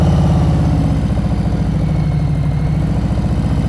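A motorcycle engine held at a steady, slightly raised idle as the rider preloads the throttle for slow-speed riding, a continuous close throbbing hum with no talk.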